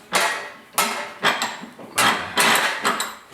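A hammer taps sheet metal around a corner during rust repair on a 1939 Chevy two-door, striking about six sharp, ringing blows at an uneven pace. Each hit stands clear and close, with no talk.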